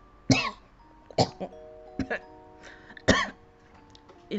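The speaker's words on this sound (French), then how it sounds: "Je me mets à tousser." Several harsh, close coughs and throat-clearing bursts come one after another in an uneven rhythm, with brief quiet gaps between them.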